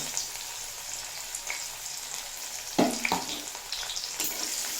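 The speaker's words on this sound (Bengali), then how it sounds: "পেঁয়াজটা হালকা নরম করে ভেজে নেব" Chopped onions fry softly in oil left over from fried fish heads, a low steady sizzle broken by a sharper scrape and clatter from stirring midway, with no one speaking.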